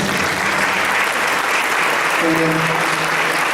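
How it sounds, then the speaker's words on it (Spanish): A loud, dense round of audience applause for a priest at a church gathering on lectio divina and contemplation, sustained and even throughout, with a faint voice briefly audible underneath partway through. "le damos otro aplauso al padre Pedro Mundo Gómez."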